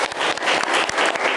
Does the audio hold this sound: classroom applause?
yes